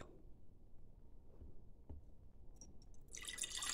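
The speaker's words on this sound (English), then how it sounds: "now we're going to pour it into my teapot" Liquid poured into a teapot, faint dripping at first that swells near the end into a brighter splashing trickle, with no talking.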